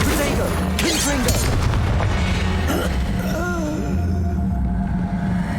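Confringo fire-spell blasts in a Hogwarts Legacy duel, loud booming bursts over a dense, constant battle din with spell whooshes and shouted voices throughout.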